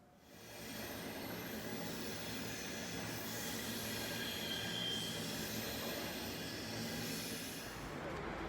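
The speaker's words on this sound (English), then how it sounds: "Regio train just went by." A regional train rolls past in Berlin with a sustained rumble and clatter of wheels on track, rising quickly and staying loud and steady, with a faint metallic squeal on top.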